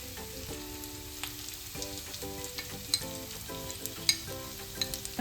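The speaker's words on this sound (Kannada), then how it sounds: "ಈ ಥರ ಗೋಲ್ಡನ್ ಬ್ರೌನ್ ಆಗಿ ಚೆನ್ನಾಗಿ ಫ್ರೈ ಆಗಿದ್ರೆ ಆಲ್ಮೋಸ್ಟ್ ಆಗಿದೆ" Chicken for a pepper dry dish, seasoned with garam masala powder, fries and is stirred in a pan, with a faint, steady sizzle and occasional scraping clicks under background music.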